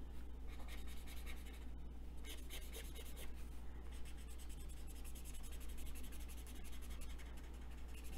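Continuous soft scratchy rubbing of a marker tip across paper, with rhythmic strokes at close range and no talking.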